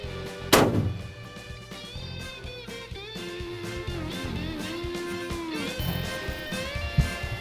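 A single loud rifle shot from a hunting rifle firing a 150-grain Berger VLD bullet at a buck cracks out early, followed by outdoor ambience with steady tonal background hum and music-like tones.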